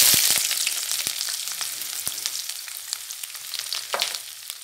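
Onions fry in very hot oil for an egg and bottle gourd bhurji, giving a dense, steady sizzle that eases slightly, broken by sharp stirring clicks and a few spitting pops.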